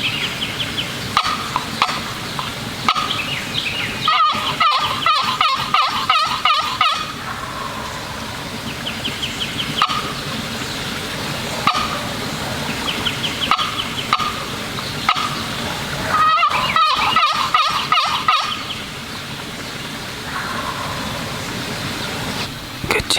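Wild turkey gobbling and calling in a hardwood forest during North Carolina spring turkey season, heard as two bursts of rapid rattling gobbles from a moderate distance over steady woodland background noise.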